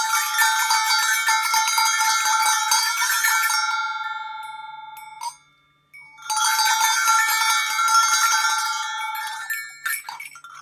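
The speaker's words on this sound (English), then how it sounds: "bunch of cowbells that are strung onto or like hooked to each other." A cluster of linked metal bells clangs and jangles together in a bright, ringing burst, fades out, then rings again in a second shaken wave.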